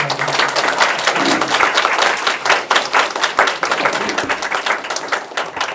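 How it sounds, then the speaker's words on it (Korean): Warm applause from a university lecture audience, loud and close, with crisp individual claps forming a dense, rhythmic patter that stays strong across the whole stretch. "여러분들 따뜻한 박수로 활동을 해주시기 바랍니다."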